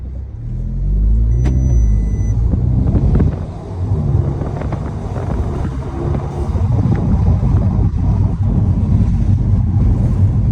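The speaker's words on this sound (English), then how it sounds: "we're going for a test drive now and let's feel how the car really feels" An Audi S3 with a previously blown turbo on a road test drive, its engine and road noise a steady, loud low rumble heard from inside the cabin throughout.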